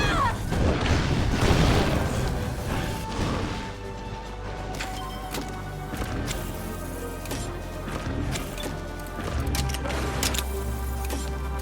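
Grenade headbutt in the Monster Hunter Stories game: a dense, loud burst of crashing impacts and booms up front, followed by continuing battle clatter, thuds and hits over a low rumble, with no voices.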